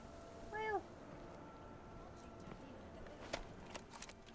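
A cat in the Indiana Jones and the Great Circle video game gives a single short, rising meow close by, then faint rustling and light clicks follow in a quiet room.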